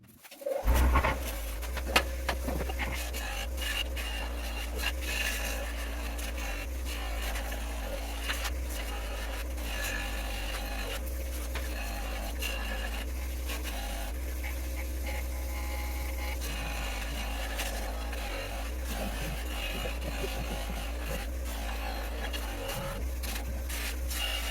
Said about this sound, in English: so I'm going to try a little bit with this buffing wheel